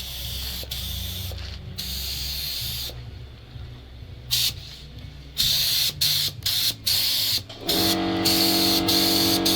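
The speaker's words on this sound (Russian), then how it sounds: "Пропеллер красим в цвет кузова Зила" Spray painting the fan propeller of a ZIL truck to match the body color: loud hissing aerosol bursts in irregular on-off spurts, several short sprays toward the end, close and without talk.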